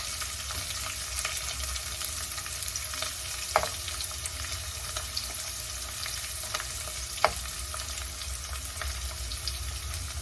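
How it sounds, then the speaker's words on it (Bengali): Onion, tomato and green chili fry in a pan for upma, giving a continuous close sizzle broken by occasional stirring scrapes and two sharp clinks of a utensil. "পেঁয়াজ, টমেটো, কাঁচা লঙ্কা এগুলোকে ভালো করে নেড়ে"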